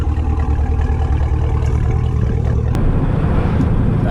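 Chevrolet Camaro cruising in manual mode, steady low engine drone with road rumble from inside the cabin, continuous and fairly loud.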